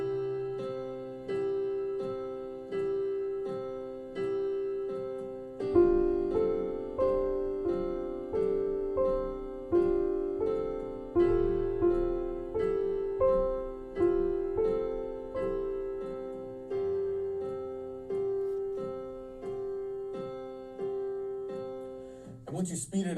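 Piano chords arpeggiated slowly, each broken chord rolling up from the bass in a steady, even pulse, close and clear with sustained ringing notes.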